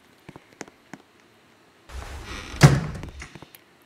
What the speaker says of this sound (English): After I open your closet doors.